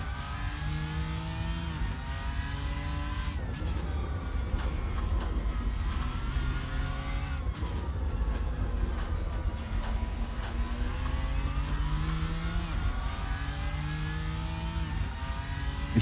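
A racing car in Assetto Corsa laps the track, its engine revving up through the gears in repeated rising sweeps, with brief downshifts and steady close-up drone.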